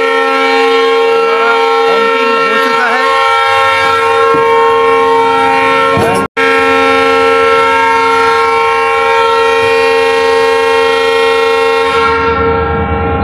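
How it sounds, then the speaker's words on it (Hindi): A diesel locomotive horn on the Kamrup Express sounds loud and sustained as the express train pulls away from Chaparmukh railway station, its layered steady tones blaring almost continuously with a brief break midway. "तो होंकिंग हो गया है, 2 मिनट का स्टॉपेज ख़त्म और हमारी ट्रेन धीरे से चापारमुख रेलवे स्टेशन से निकल रही है।"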